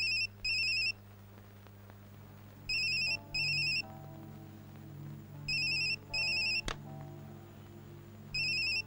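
A telephone rings in repeated paired electronic trills, four bursts spaced across the clip over a quiet room hum.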